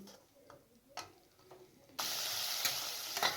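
Capsicum, onion and tomato being stirred in a pan, a few scraping knocks from the spoon at first, then a sudden loud sustained sizzle as the vegetables hit the hot pan, with occasional clinks.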